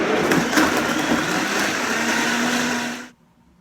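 A blender runs loud and steady, churning banana, dates, water and ice cubes into a raw vegan smoothie, a dense whirring roar that holds for about three seconds and then cuts off abruptly to silence.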